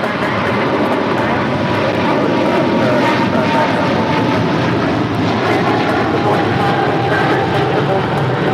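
Airliner jet engines roar steadily at LAX, a broad continuous rumble that fills the scene without pause, with voices talking over it.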